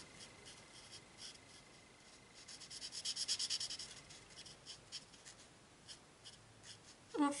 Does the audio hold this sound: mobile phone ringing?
no